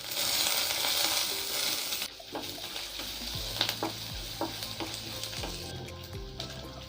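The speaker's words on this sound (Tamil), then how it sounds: "பூண்டோட பச்சை வாசனை போகிற வரையும் ஃப்ரை பண்ணிக்கோங்க" Crushed garlic is dropped into hot oil with peanuts and curry leaves and starts to hiss in a broad sizzle. A spoon then scrapes and stirs the pan in irregular knocks over a softer crackle.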